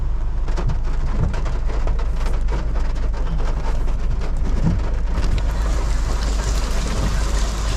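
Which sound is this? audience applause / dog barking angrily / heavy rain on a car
heavy rain on a car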